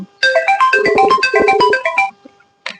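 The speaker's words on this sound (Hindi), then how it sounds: "फोन आवत है यार" A loud electronic ringtone plays a bright, rapid melody of beeping tones for about two seconds, then stops, with a brief faint tone after.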